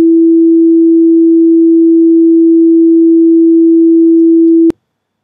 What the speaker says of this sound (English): when I play this E, this sinus wave, we will hear this